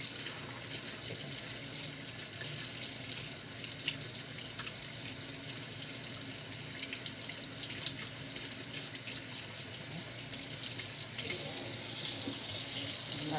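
Cool tap water running steadily over raw chicken being rinsed in a kitchen sink, a continuous hissing splash at moderate level with no talk.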